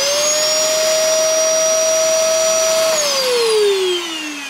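A secondhand vacuum cleaner runs with a loud, steady high whine and airy rush, close by, then winds down with a falling pitch as it is switched off near the end.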